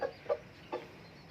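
A fighting rooster lets out three short, separate clucks, quiet and close by, with brief silent gaps between them.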